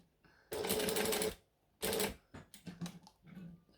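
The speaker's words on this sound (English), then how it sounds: "And then we're going to stitch that together." A sewing machine stitches a fabric strap onto a D-ring in two loud bursts, the first about a second long and the second shorter. Softer clicks and handling noises follow as the work is adjusted.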